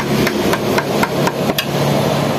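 Wood chisel struck repeatedly with a mallet while carving a Harley-Davidson logo sign in wood, a series of about six sharp, close, loud knocks at a steady rhythm, with no talking.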